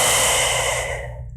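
A long, steady exhale hisses out as a standing breathing drill releases the breath, close and clear, fading gradually over about a second and a half with no talking.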